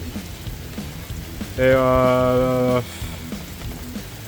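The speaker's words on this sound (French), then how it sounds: "Bah dis donc les gars, il pleut de ouf. C'est un orage carrément." Heavy rain pours steadily through a thunderstorm, a dense hiss running under and around a short burst of voice, with a brief louder tonal sound overlaying it in the middle.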